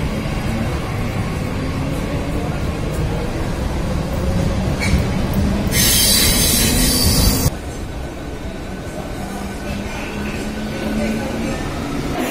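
Mumbai local train running on rails between Titwala and Boisar via Dadar: loud, steady rumbling wheel noise with squealing tones and a brief harsh hissing burst partway through.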